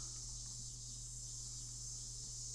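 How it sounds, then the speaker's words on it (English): Steady, unbroken drone of cicadas filling a game's summer Friday afternoon, a bright high buzzing band holding level and fairly loud throughout with a low hum beneath, no voices. "Ah, cicadas."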